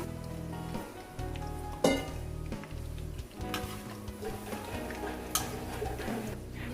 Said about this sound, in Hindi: पकोड़े जो हैं वो फ्राई हो रहे हैं, फ्रेंच फ्राइज़ वाले बहुत ही यमी किस्म के पकोड़े